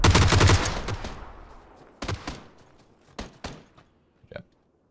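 G36C rifle fire in a video game shooter: a dense rapid burst at the start, then several separate sharp shots with decaying tails and short gaps, ending in a small faint pop.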